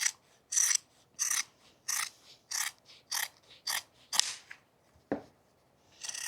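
Scissors cut through truck seat upholstery right next to the stitching thread in a run of about ten crisp, rhythmic snips, close and clear, followed by a short rasp and one more cut.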